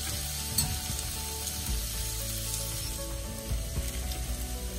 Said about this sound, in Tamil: இப்போ இந்த மிளகாத்தூளுடைய ரா ஸ்மெல் போகிற வரைக்கும் நம்ம இதை நல்லா ரோஸ்ட் பண்ண போகிறோம்